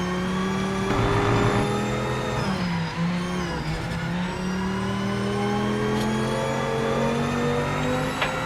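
A small Mini John Cooper car's engine revs steadily and loudly in the Project Motor Racing game, its tone rising and falling through gear changes across the whole stretch with no talk over it.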